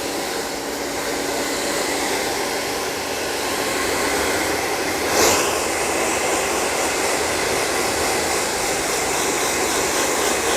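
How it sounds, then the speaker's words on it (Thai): A hair dryer blows steadily during a haircut, a loud, continuous close whoosh lasting throughout, with one brief change in airflow partway through. "เป่าอีกทีนะครับเป่าเพื่อจะไล่อะไรไล่ความชื้นออกนะ"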